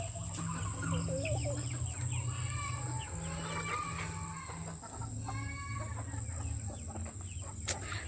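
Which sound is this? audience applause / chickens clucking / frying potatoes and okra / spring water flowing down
chickens clucking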